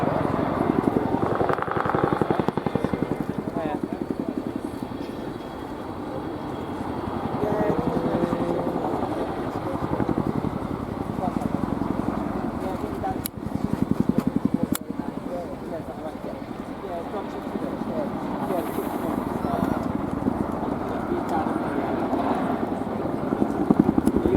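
Heavy rotor thumping and engine roar of an RAF Boeing Chinook HC.6 in a maximum performance climb at the RIAT 2025 air show at RAF Fairford, holding steady throughout, with an announcer's voice faintly underneath.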